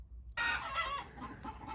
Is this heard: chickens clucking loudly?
yes